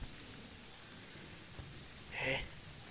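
Steady storm rain in Terraria hisses throughout at low level, with a brief brighter swell late on, under faint background voice.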